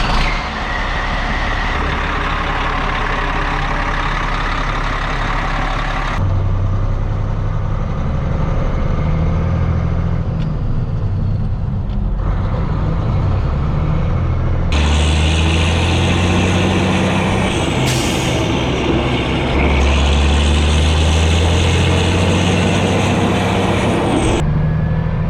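Peterbilt semi truck out on a test run after brake work, with a continuous diesel engine drone that shifts pitch and load several times as it accelerates and changes gear, loud and close throughout.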